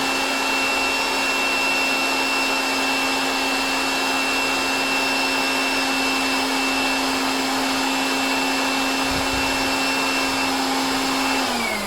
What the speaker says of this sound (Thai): ตัวเครื่องทำงาน มันก็จะดังพัดลมธรรมดาแล้วนี่แหละ มันจะวืดวืดมันแล้วแต่เราโหลดหนักโหลดเบา